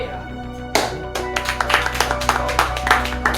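A small audience breaks into scattered clapping after a quiet pause. The claps come as sharp, uneven bursts over steady background talk.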